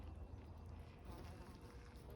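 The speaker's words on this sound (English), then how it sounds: "And more bees. Oh, loads dancing around everywhere." Bees buzz among flowering mint and other plants at an outdoor nursery in August, a continuous close droning hum that rises and falls as they move around the blooms.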